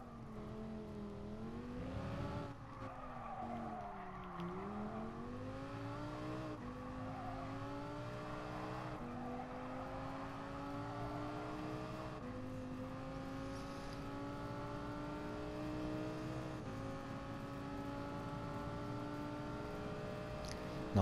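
Racing cars in the video game GT Sport drone continuously, the engine pitch climbing and falling through repeated gear changes as the revving carries on steadily for the whole stretch, with no talk over it.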